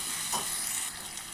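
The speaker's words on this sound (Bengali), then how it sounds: "এবার একটু কষিয়ে তারপরে কষানো আলুগুলো দিয়ে দেবো" Fried soybean chunks and fried potatoes are sautéed in a pan, with a soft, steady sizzle and a faint scrape of a spoon, quiet and brief, and no talking.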